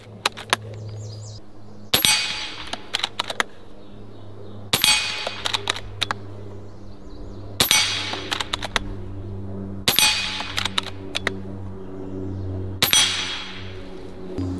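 Gauntlet 30 air rifle firing 44.8 grain pellets at a target: five sharp shots spaced about three seconds apart, each a crisp crack followed by metallic pings and rattles, over a steady low hum.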